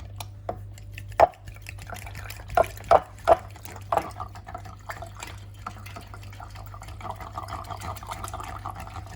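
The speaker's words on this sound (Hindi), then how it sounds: "अंडों को हम दूध में मिक्स कर देते हैं अच्छी तरह।" Eggs are whisked into milk in a bowl for egg halwa: soft liquid swishing broken by a few sharp clinks against the bowl, then a steadier sloshing mix, all fairly quiet.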